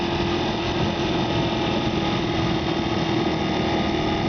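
A Honda XR80 dirt bike engine screams at high, steady revs in first gear during a slow wheelie, loud and continuous, heard close up with no talking.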